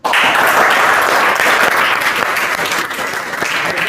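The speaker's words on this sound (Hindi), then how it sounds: "वैसे सर का वेलकम करना चाहते हैं अभी तक की सबसे जोरदार तालियों के साथ" Loud, enthusiastic applause from students welcoming their headmaster on result day bursts in abruptly and stays strong and dense for about four seconds, with no voices on top.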